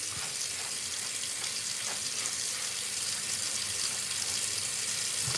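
Water streams steadily from a tap while a beard is rinsed after washing, a soft, continuous splashing hiss with no speech.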